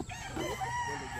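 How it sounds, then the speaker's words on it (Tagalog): A tethered rooster crows close by in one brief, strained call, with a faint hum in the background. "may nakatali palang manok."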